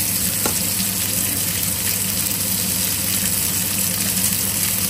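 Mushroom gravy bubbling and thickening in a pan gives a steady, fairly loud sizzle with soft stirring and a faint hum underneath, with no speech.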